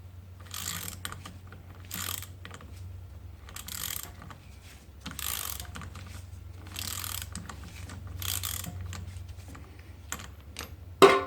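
A ratchet wrench loosens a bolt on a Honda ATC200 three-wheeler, with repeated close bursts of rapid clicking in an uneven rhythm, separated by brief pauses, over a low steady hum.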